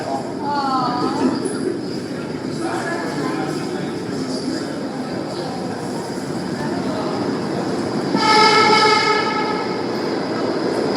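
A New York subway train at a station rumbles steadily throughout, with a brief high metallic wheel squeal near the end and no speech heard.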